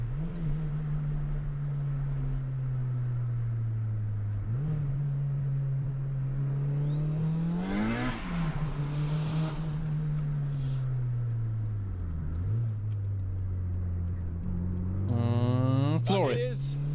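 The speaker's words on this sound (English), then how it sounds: "You've got that exhaust burbling away, popping sometimes" Engine of a 1998 Honda Civic VTEC turbo accelerating on the Autobahn, a steady droning exhaust note that rises and dips with revs and climbs sharply near the end, heard from inside the car with talk over it.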